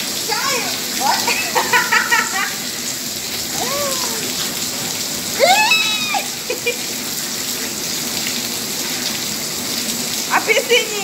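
Steady rain falling on outdoor surfaces, a constant broadband hiss throughout, with children's voices and shouts heard over it at intervals.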